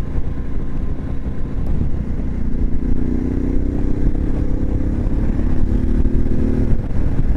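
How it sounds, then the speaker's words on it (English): A Harley-Davidson Pan America 1250 motorcycle cruises in sixth gear on the road, its steady engine drone rising gently in pitch under heavy, continuous wind rush, with no talk. "Overtaking at sixth gear is no problem,"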